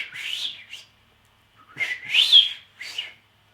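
A person whistles a short tune in several bright phrases separated by pauses, close and clear against a silent background.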